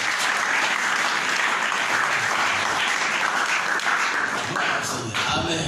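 A church congregation applauds loudly and continuously in a full, sustained wash of clapping that eases slightly near the end.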